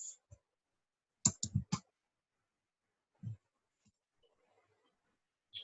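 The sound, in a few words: typing code on a computer keyboard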